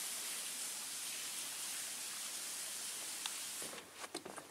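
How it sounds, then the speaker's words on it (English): Water spills over a small cliff at Pictured Rocks, Michigan, making a steady, faint rushing hiss from a distance. A few brief knocks and scuffs break in near the end. "You can hear the water running over the small cliff over there."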